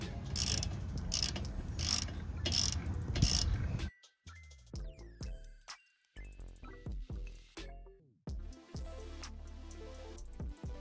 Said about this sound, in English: you can get a wrench to hold it in place so you can get the caliper bolt out